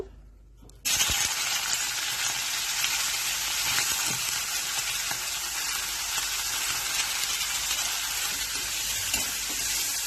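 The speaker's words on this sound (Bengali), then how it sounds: "কড়াইতে তেল দিয়ে দিয়েছি, এবার মাছটা ভেজে নেব।" Fish fries in hot oil in a wok, a bright, constant hiss and crackle that starts suddenly and holds steady, with a few faint clinks; nobody talks.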